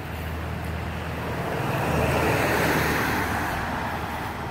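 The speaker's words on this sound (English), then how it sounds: "this is the river that you launch into" White Salmon River water rushing steadily past a launch spot below a bridge, a broad continuous wash of flowing water that swells slightly mid-way, heard alone without voices.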